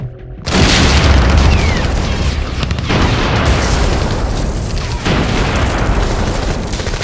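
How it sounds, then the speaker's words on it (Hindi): Bomb blasts strike the Gaza Islamic University campus, a huge sudden boom followed by a continuous heavy rumble and roar, loud and close, with further thuds rolling through the dense, sustained noise. "गाजा इस्लामिक यूनिवर्सिटी कैंपस का आसमान बम धमाकों के साथ धूल के गुबार से भर गया।"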